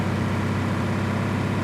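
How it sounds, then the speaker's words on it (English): Modded American-style semi truck engine in Farming Simulator 19, a steady low diesel drone with a throbbing pulse, continuous and close, no talking. "So this truck's also got great engine sounds"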